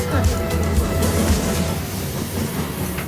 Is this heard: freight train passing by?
yes